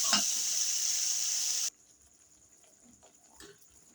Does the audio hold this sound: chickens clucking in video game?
no